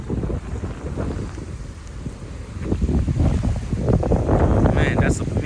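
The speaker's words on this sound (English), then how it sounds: "Oh, the wind is so strong." Strong wind buffets the microphone at the Kingston waterfront in Jamaica, a steady, heavy rumble that grows louder toward the end, with sea ambience beneath and no clear talk.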